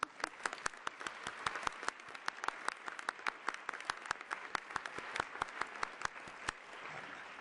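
A conference audience at a business and human rights forum claps for the interpreters, a fairly quiet, distant patter of individual claps with sharp separate hits over a soft room background, thinning out toward the end.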